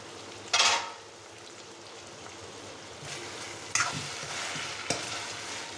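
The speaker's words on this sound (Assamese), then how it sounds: "এতিয়া ভাজি থাকোঁতে ফুটিব লাগে। নুফুটালৈকে লৰাই বা ঢাকিব লাগে, মাজে মাজে লৰাই দিব লাগে" Mutton curry fries in a pan over a low flame, with a steady soft sizzle broken by a few sharp scraping bursts as it is stirred, close and without talk.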